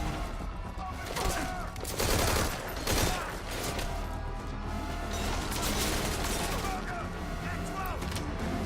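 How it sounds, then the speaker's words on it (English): Dense, rapid gunfire in Metal Gear Solid V: Ground Zeroes crackles continuously with heavier bursts near the start, mixed with mechanical clatter and background voices. "I'm being shot at right now."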